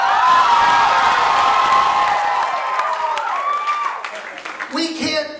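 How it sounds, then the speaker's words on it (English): A theater audience cheering, whooping and clapping loudly and continuously, the crowd noise fading somewhat toward the end as a voice cuts in. "You're cheering, you're clapping, you're laughing"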